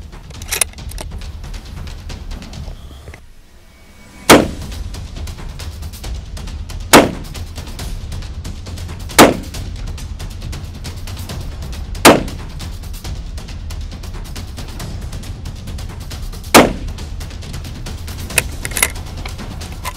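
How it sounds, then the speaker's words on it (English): A Tikka UPR rifle in 6.5 Creedmoor fires five separate shots several seconds apart on a range, each a sharp, distant-sounding report over steady background noise. "Same exercise, 5 rounds, and the goal is to shoot sub MOA"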